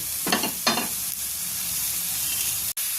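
Ground spices cook down with a splash of water in a pan, making a constant loud hiss and sizzle, with two brief scraping stirs near the start. Close by, with no voices.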